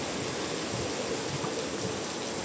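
Steady rain falling outdoors at a rice-field area in Nueva Ecija, a dense continuous hiss with no distinct drops or talk.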